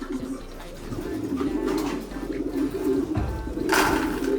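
Young pigeons coo steadily while eating in a hot loft, a close, continuous murmur of soft coos with a few louder bursts.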